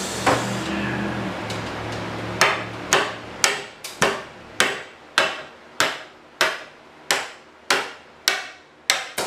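Sharp, loud hammer blows striking wooden joints of an old house to pop nails out, about a dozen ringing hits at a steady pace, each decaying quickly, after a short stretch of rustling.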